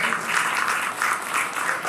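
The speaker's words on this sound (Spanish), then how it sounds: "otro aplauso para Suretti" Applause for a presenter at a talk on artificial intelligence in education, a steady crowd clapping that stays fairly even and moderately loud for its whole short span, with no voices over it.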